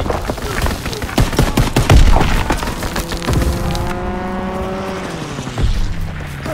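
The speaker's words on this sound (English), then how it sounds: "Enemy strafing run incoming!" Enemy aircraft strafing run in the Call of Duty WW2 video game, a loud, close burst of rapid cracking gunfire with splintering impacts for a few seconds, then a whining aircraft engine with a brief voice under it.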